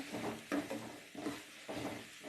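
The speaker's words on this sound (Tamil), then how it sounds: "நல்லா செவக்க நல்லா வதக்கிக்கணும்." Onions and chillies for kaara chutney sauté in a pan with a soft sizzle and a rhythmic scrape of stirring, repeating roughly every half second, fairly faint.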